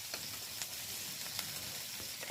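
Onion and garlic paste with salt sautéing in hot mustard oil, a steady soft sizzle with faint stirring scrapes, close and fairly quiet, no voices.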